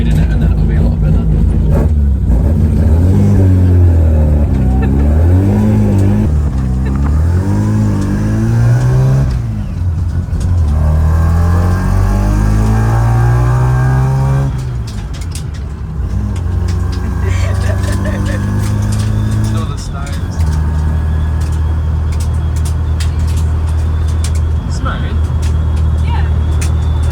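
A car engine running rich hums loudly while driving, rising and falling with revs and shifting pitch through gear changes, steady and close throughout.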